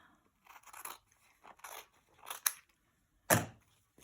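A paper stencil being cut in half with scissors: several separate crisp snips and crunchy paper cuts, close up, spaced apart and ending with one louder cut, with no voices.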